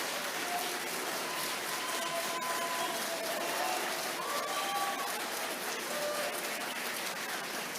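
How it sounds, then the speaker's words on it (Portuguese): Steady, somewhat distant audience applause fills a formal council ceremony honoring educators with merit diplomas, a continuous wash of many hands clapping that never pauses. "peço uma salva de palmas e parabéns"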